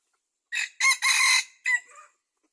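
A three-year-old hen-crossed rooster of prized quality crows loudly nearby, a ragged call broken into several bursts, followed by a short cluck-like tail, with quiet surroundings.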